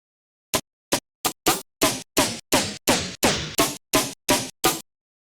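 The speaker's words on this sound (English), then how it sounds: "so it's much more noticeable with the snare drum" Pitched snare drum sample hits triggered in Renoise, about a dozen sharp, bright cracks in quick succession, each bursting loudly then decaying, the pitch sliding across the run.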